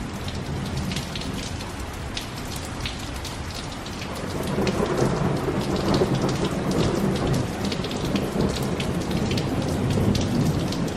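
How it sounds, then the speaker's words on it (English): Steady heavy rain pours down with a low rumble of thunder building and rolling through the middle, no voices present, during an Easter storm in Columbus, Mississippi. "we've had quite a lot of rain and a lot of thunder and lightning come through here"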